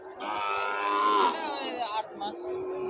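A Sahiwal bull at a cattle market lets out one long, loud, close moo that fades in its last second.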